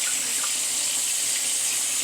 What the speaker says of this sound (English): rinse your chicken real good